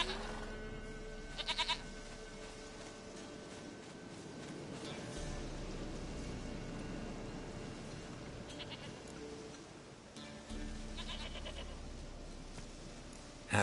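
Goat bleats in The Witcher 3 game, a few short nasal calls early and near the end over a steady ambient game background with music; no talk.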